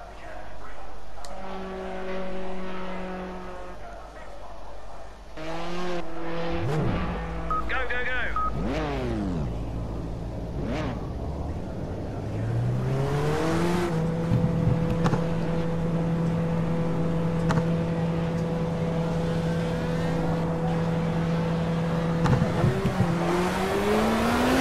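Race car engine of a BMW 320 Turbo Group 5 in the racing game Project CARS on a wet track, revving and shifting through gears with rising and falling pitch, loud and continuous with tire noise.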